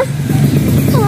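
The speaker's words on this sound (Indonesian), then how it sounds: "Oh, ada motor." A motorcycle passes along a village road, its engine hum rising and falling steadily at moderate distance, with a brief higher whine toward the end and children's voices faintly around it.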